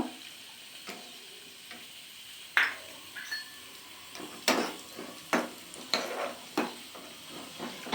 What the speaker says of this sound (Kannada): ಫಸ್ಟು ಗೋಡಂಬಿ ಫ್ರೈ ಮಾಡ್ಕೋಬೇಕು.